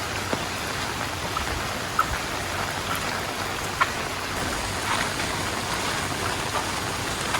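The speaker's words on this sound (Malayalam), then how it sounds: "അപ്രതീക്ഷിതമായിട്ടിപ്പോൾ ഞാനിപ്പോൾ ഇവിടെ എത്തിയപ്പോൾ നല്ല മഴയാണ്." Steady, dense heavy rain in Kannur, Kerala, hissing across a wide range, with occasional sharper drops standing out; no voices.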